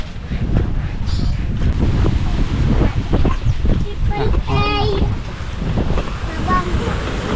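Steady surf and wind rumble fill a seaside cottage scene at Bucana, with people talking nearby throughout.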